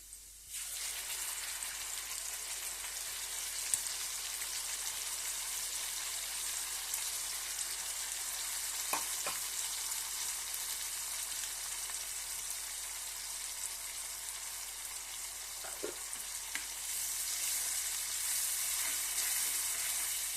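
Cashew and tomato paste sizzles steadily in a pan while masala bhindi is cooked, a continuous close frying hiss with a few faint clinks and no talking.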